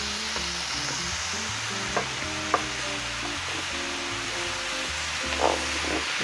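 Angel hair pasta being mixed with fresh kale juice, steady sizzling, stirring noise with a few brief clinks, close and continuous with no talking.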